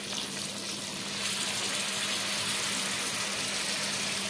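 Water poured into a home-cooked chicken curry, a steady, fairly loud rushing pour that runs continuously for several seconds with no talk over it.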